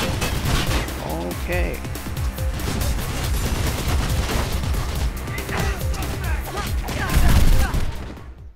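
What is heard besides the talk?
enemy gunfire in the video game Mirror's Edge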